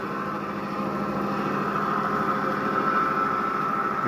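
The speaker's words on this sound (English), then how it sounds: "here's our ore train starting to climb" A steady, continuous engine-like hum and rumble of a small model ore train climbing a grade, constant in loudness with no voices.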